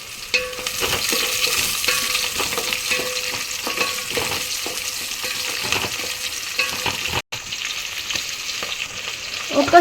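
Green chillies fry with onions in a pan for a Telangana-style goat head curry, a loud, continuous close-up sizzle with light stirring clicks throughout and one brief dropout near the end.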